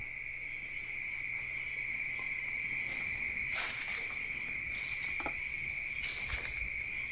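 Loud, continuous cricket chirping fills the night, with a few faint scratchy rustles scattered through it.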